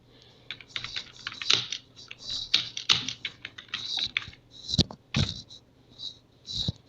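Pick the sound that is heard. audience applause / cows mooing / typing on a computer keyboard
typing on a computer keyboard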